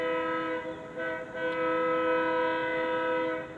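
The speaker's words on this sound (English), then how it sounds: "oh, we got a train" A train passing near the Arkansas River sounds a long, steady horn, loud and sustained and dipping slightly, with no talk over it.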